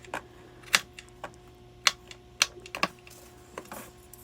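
A knife chops carrots on a cutting board, sounding as sharp, irregular knocks spaced unevenly with short pauses between them, close and fairly crisp with no talking.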